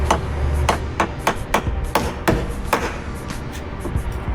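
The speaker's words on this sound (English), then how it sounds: "Little chisel action here." A hammer striking a chisel while working on a Power Wheels ride-on toy being rebuilt into a beach cart: about a dozen sharp, loud metallic blows at an irregular, fairly quick pace, close by with no talking.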